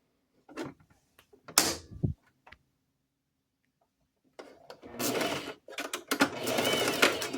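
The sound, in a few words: sewing machine stitching around the edge of fabric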